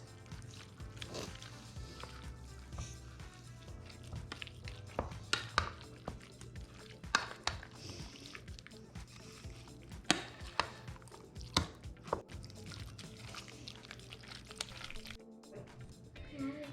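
Guacamole being mixed by hand in a bowl, a run of soft squishy mashing and scraping strokes with sharper clicks of the utensil against the bowl, close and fairly quiet, with low background hum.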